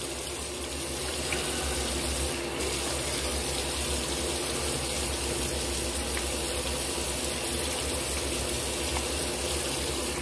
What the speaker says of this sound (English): having trouble here rinsing all the residual off the face.